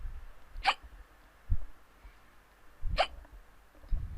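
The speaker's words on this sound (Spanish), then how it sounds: "Me dio hipo." A person hiccups sharply at least twice, short abrupt gulps spaced a couple of seconds apart, with faint thumps and quiet background between them.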